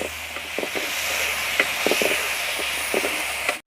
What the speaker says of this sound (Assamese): কচুখিনি অকণমান সময় ভাজিছো।